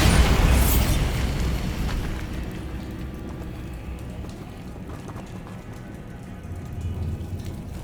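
A Bombarda blasting spell explodes in Hogwarts Legacy. The loud initial boom decays into a long, dense rumbling roar that sounds like crackling debris and fills the scene.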